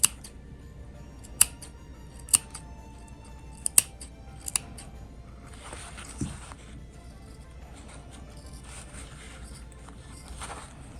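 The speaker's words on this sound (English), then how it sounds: "Right here where we sew on the curve, you're gonna make sure that you're gonna cut a little bit down, not all the way" Scissors snip fabric along a sewn curve in a fabric bowl project, giving a few sharp, close clicks spaced over several seconds, followed by softer rustling handling of the cloth.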